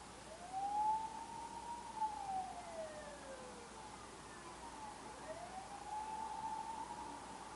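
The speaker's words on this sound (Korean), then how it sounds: "지금 사이렌 소리가 저 멀리서 들리는 것처럼 느껴지잖아요." An emergency-vehicle siren wails from far away, its pitch rising and falling in slow sweeps that come through faint and steady over a quiet background.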